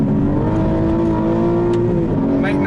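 Aston Martin V12 Vantage S, a rear-wheel-drive car with a V12 engine, accelerating hard with a loud, steady rising engine note held close and continuous, with no talk over it.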